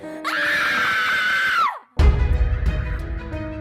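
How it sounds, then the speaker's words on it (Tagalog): A woman's scream used as a sound effect: one loud, sustained, piercing shriek that bends downward and cuts off, followed by a booming low hit and rumbling noise. "nang makarinig siya ng isang tili ng isang babae sa hindi kalayuan."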